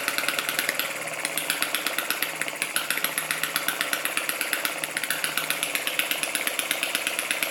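A Lister D model stationary engine runs steadily with a fast, even thudding beat, loud and close, holding a smooth idle throughout without any talking.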